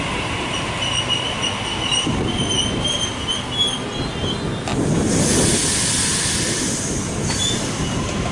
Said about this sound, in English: Gordon via Stratfield service arrived into platform number 2